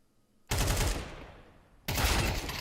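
Gunfire from a Counter-Strike match on the Ancient map, heard as two dense bursts of rapid shots, the first starting abruptly and tapering, the second cutting in loud near the end, with no talk over it.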